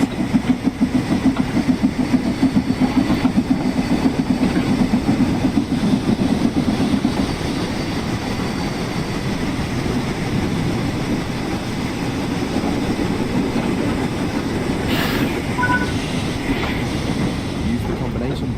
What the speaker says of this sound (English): Use the combination brake to apply some braking force and bring the train to a stop